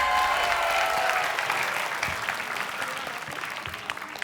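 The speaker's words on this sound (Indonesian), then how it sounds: "Oke, boleh tepuk tangan untuk Dania." A studio audience at a TV game show applauds for a contestant, a dense burst of clapping that slowly tapers over a few seconds.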